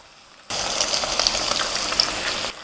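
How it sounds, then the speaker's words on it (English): Two eggs frying in a hot pan for Pad Thai, a steady loud sizzle that starts abruptly and crackles with small pops for about two seconds before cutting off. "I'm just going to cook those eggs through."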